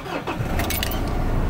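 A car engine starts after brake pad and rotor work: a short cranking burst settles into a steady idle hum, close and fairly loud, with no talk.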